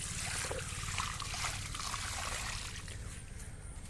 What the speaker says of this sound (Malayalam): അപ്പോൾ നമ്മൾ കലക്കി വെച്ചത് പാവലിന് ഒഴിച്ചു കൊടുക്കുകയാണ്.